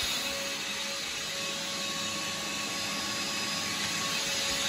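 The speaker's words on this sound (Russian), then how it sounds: "сейчас у нас пылесос работает на выдув" A vacuum cleaner in blow mode, pushing water out of a heating system, roars steadily and loudly with a constant whine, running without pause and no voices.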